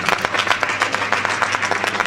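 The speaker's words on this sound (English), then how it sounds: "applause for yourselves" Audience applause fills a conference hall at a national JCI conference theme session in Abeokuta, a steady dense wash of many hands clapping at once that holds at an even level from start to finish.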